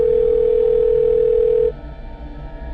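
A steady telephone dial tone holds for about a second and a half, then cuts off abruptly, leaving a quiet room hum underneath.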